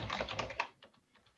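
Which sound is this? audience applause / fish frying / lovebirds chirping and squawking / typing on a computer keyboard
typing on a computer keyboard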